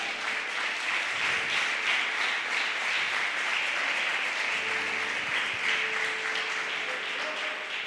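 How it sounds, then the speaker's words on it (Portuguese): A church congregation applauds together during a sermon, steady sustained clapping filling the room at an even level throughout, with no voices standing out. "Se você crê, aplauda ao Senhor Jesus"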